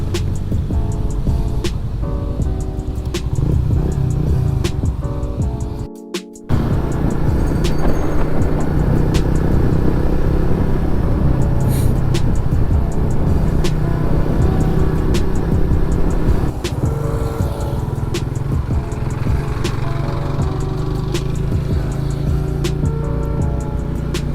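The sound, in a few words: car traffic on a highway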